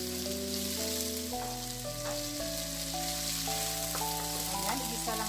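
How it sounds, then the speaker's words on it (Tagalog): Tenderized beef for kare-kare sautés in a pan with a soft, steady sizzle, while a sustained tonal background hum runs underneath and no one speaks. "igisa lang natin siya ng kaunti"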